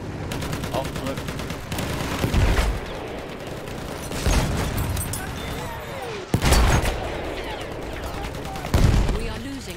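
Battlefield 1 combat with mortar fire and a landship nearby: repeated heavy blasts and booming impacts at irregular intervals over continuous gunfire, with a voice talking now and then.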